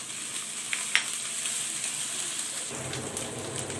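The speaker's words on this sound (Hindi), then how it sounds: "प्याज को अच्छे से भूनेंगे।" Onions sizzle in a pan with ginger garlic paste, making a soft, even hiss with a couple of sharp crackles early on and a slightly fuller frying sound toward the end, all fairly quiet.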